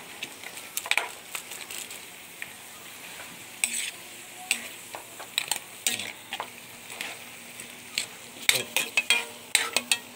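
Pork caldereta stirred in a cooking pan, with a soft continuous sizzle under irregular scraping and clinking of a utensil against the pan, close by.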